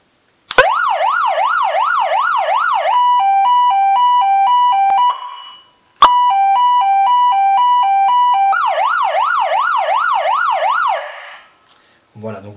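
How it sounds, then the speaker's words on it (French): A motorcycle police-style siren pack cycles through selectable tones: a fast rising-and-falling wail, then a steady two-note hi-lo alternation, switching back to the wail, loud and close with a short break in the middle. "on peut choisir la tonalité"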